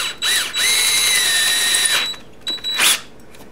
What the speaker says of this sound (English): So now I can finish drilling that hole.